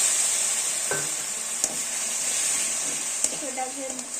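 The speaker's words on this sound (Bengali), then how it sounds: "এটাকে বেশ ভালো করে আমরা একটু কষিয়ে নেব।" A mixture of chilli, turmeric and cumin powder fries in a pan for chana masala, giving a steady hiss of sizzling oil with occasional scrapes and clicks of a stirring spoon.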